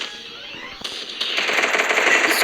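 Rapid gunfire from a video game shootout swells from faint and distant to a steady, louder automatic rattle over a couple of seconds.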